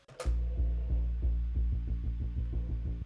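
Deep, throbbing bass pulse in Ableton Live that starts in steady eighth notes, then doubles its pace into quicker, busier sixteenth notes.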